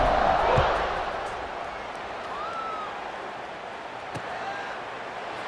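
A stadium crowd roars steadily at kickoff in an American football video game, a broad crowd wash that starts loud and settles into a constant hum.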